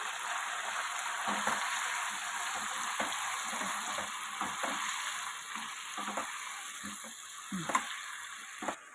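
Vegetables fry with turmeric and salt in a pan, giving a steady soft sizzle with scattered stirring scrapes and clinks, heard close and alone.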